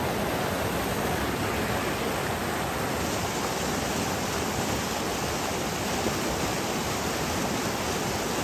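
A river flows steadily beside a campervan parking area in the Hohe Tauern mountains, a loud, even broadband rush of water held constant throughout with no voices.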